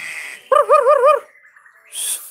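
A white-rumped shama, a songbird, calls in reaction to a female, giving a short, loud warbling phrase with a wavering, repeated pitch, followed by a faint tail of lower sound and a brief bright burst.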